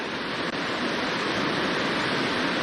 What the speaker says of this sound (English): it's running really fast. That looks pretty brown, that water, and pretty angry.